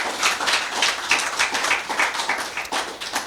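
Audience applause for a speaker at a talk at the American Library in Paris, a steady wash of many clapping hands holding even and fairly loud for about three seconds with no voices over it.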